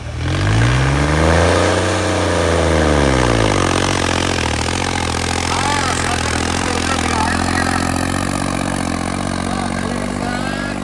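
A tractor engine revs hard at a Tavia disc-harrow pulling contest in Lakhan Khole, its pitch swelling and falling in a few big sweeps before settling into a loud, steady roar.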